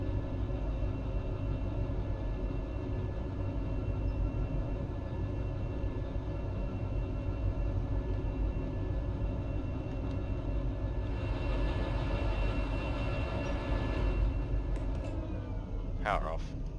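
A heavy DE6 diesel locomotive engine in the video game Derail Valley rumbles steadily at a low, constant drone, with a brief hiss and a short squeal near the end.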